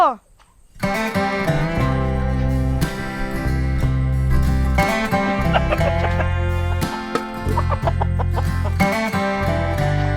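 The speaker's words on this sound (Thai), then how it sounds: "นี่เดี๋ยวเราเอาไก่ตัวโปรดของเราไปให้ดู" A chicken clucks repeatedly at close range in a rural Thai village setting, with busy, uneven bursts of clucking running through the whole stretch.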